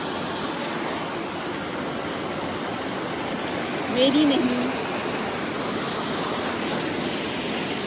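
Water rushes steadily in Manali as a constant, loud hiss that fills the whole stretch, with a person speaking briefly over it partway through.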